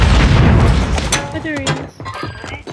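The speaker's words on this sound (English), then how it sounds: "Grenade out!" A grenade goes off in the battle-royale shooter Call of Duty Warzone, a loud low boom at the start that rumbles and fades over about a second, followed by scattered gunfire and mechanical game sounds.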